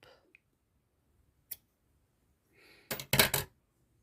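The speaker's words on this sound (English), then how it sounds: "You cut it off and leave a long length for to sew up." A couple of quick, crisp scissor snips through knitting yarn close by, preceded by a faint click and followed by a soft rustle in an otherwise quiet room.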